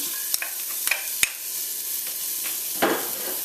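Onion hitting hot olive oil in a warm pan gives a steady, close sizzle with a few sharp clinks and a louder burst near the end, no voices.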